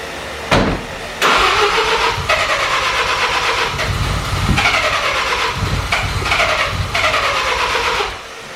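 A Mazda RX7 FD rotary engine cranks over and over after its spark plugs were cleaned, the starter churning loudly and steadily with brief pauses between attempts, never quite catching.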